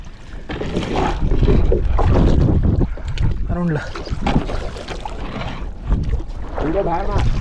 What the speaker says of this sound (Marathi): आता मी ओढी चालवतोय